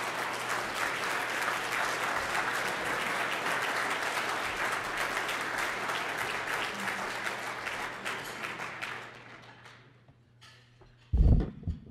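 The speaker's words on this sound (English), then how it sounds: "please give me her a round of applause" A keynote-address audience gives a sustained, dense round of applause for a former U.S. senator, holding steady for about nine seconds before tapering off, with a brief thump at the very end.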